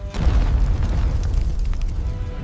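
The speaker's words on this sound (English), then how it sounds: "The explosion is unlike anything in the ancient world." Mortar shell explosion, a heavy, deep boom followed by a sustained low rumble that stays loud and dense for the whole stretch, with scattered crackling on top.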